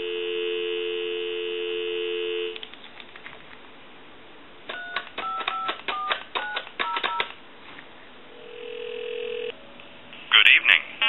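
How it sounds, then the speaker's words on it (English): A steady dial tone hums on an old French PTT telephone, then a quick burst of touch-tone dialing beeps, a pause, a single tone, and the start of a connection. "Give you some dial tone."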